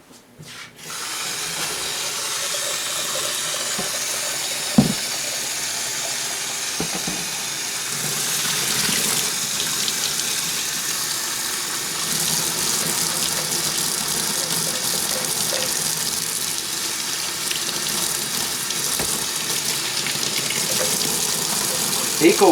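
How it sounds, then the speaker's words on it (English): Tap water runs steadily into a sink, a continuous hiss and splash close by, with occasional knocks as a paint spray gun is rinsed under the stream. "we're going to clean the spray gun in the sink using just standard tap water"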